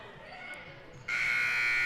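A loud electronic buzzer sounds at the end of a high school basketball game quarter, cutting in abruptly as a sustained harsh tone over faint crowd and gym noise.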